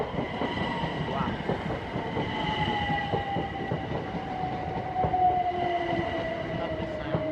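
A Class 379 electric train passes close by at a level crossing at Shelford station, Cambridgeshire, with a steady rumble and rail clatter, and a long tonal whine slowly falling in pitch; someone murmurs faintly underneath.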